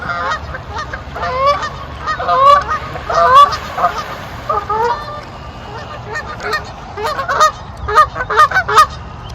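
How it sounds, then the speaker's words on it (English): A group of geese honks repeatedly in overlapping bursts, fairly near, over a low steady background rumble, at a park pond in spring. "Got some geese coming to visit."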